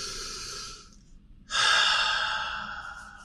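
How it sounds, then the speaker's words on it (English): A single deep breath: a soft inhale fades out, a short pause follows, then a long, close, airy exhale that gradually trails off, with no one speaking. "Okay, take a deep breath."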